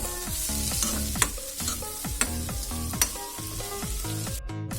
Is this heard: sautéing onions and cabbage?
yes